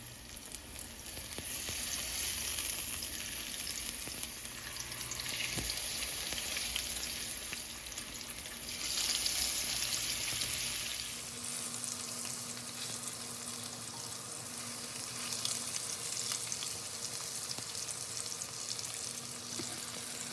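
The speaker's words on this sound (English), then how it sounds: "So wait until it heats up, and then I'm going to put the fish in." Garlic butter cod fries in a hot pan, giving a steady, close sizzle that runs the whole time with brief scraping stirs and no talk.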